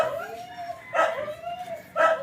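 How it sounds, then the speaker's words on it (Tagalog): A neighbor's dog barks and yelps repeatedly at a steady pace, moderately close, between stretches of a whining, howl-like tone. "Ingay ng aso ng kapitbahay"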